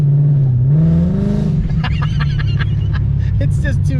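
Car with a Ben Calimer Stage 3 MT-82 manual transmission pulling away from a stop, a loud low engine drone rising in revs then settling as it gets underway, with mechanical rattles and clicks over the steady rumble.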